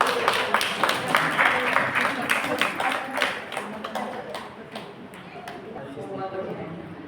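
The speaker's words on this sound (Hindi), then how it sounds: "ताली बजाते चलो।" A group clapping along in steady rhythm at a Jain prayer gathering, close and fairly loud, with a voice speaking over the claps before the clapping thins out toward the end.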